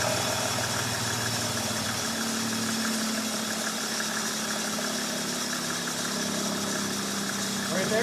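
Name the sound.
1995 Mercedes E300 engine idling too high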